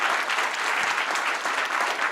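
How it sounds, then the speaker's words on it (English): A live panel audience at a hotel event in Austin claps in a steady, dense round of applause, loud and continuous throughout. "Give a round of applause from everybody else in the audience here tonight."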